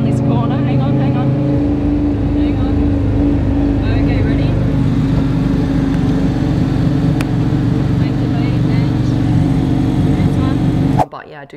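A loud, steady engine roar runs throughout, a powerful nitrous-equipped car motor droning at high revs, cutting off abruptly right at the end.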